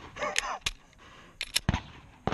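Gunshots at an action shooting practice session outdoors: several sharp, loud cracks in an irregular sequence, spaced apart with short quiet gaps between them.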